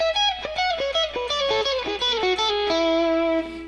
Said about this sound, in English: It's all this motion with your picking hand and then a slide.